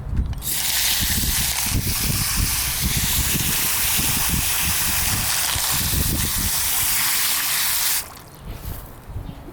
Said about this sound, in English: Now we just need to rinse off the soap.